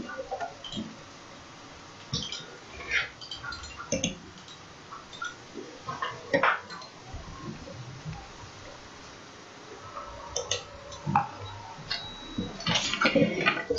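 A soap mixture with fragrance and cosmetic oil being stirred by hand gives faint liquid swishes and light clicks of the utensil against the container, irregular and close, with no talk.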